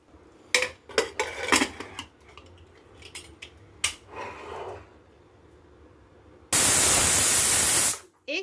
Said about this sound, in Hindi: एक सीटी लग चुकी है।